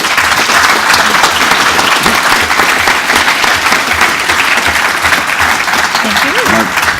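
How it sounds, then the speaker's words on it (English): Sustained applause from a conference audience thanking the panelists of a security panel, loud and steady throughout, with a faint voice briefly audible near the end. "ask you to join me in giving them a round of applause"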